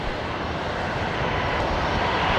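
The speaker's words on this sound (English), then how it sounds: "We've got the Jetstar 321 Neo just touching down now here on runway 19 left." A Jetstar Airbus A321neo touches down on runway 19 left at Brisbane Airport, a broad, steady jet roar close and loud, swelling slightly as it rolls out.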